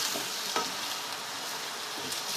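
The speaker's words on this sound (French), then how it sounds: "Là, on mélange un petit coup" Chicken and rice fry in a wok, with a constant hissing sizzle and a few soft stirring scrapes, close and without speech.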